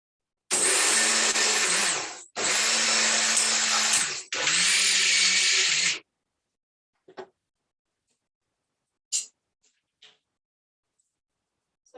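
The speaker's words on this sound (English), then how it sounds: "When you roast the sesame seeds, it grinds very fast." Roasted sesame seeds ground to powder in an electric grinder, three loud whirring bursts of about two seconds each with short gaps, then quiet with a few faint clicks and taps.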